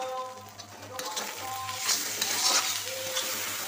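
Spices frying with onions in a pan while cooking mutton with little oil, a soft sizzle with scraping stir sounds, fairly quiet, with a low steady hum and faint background music.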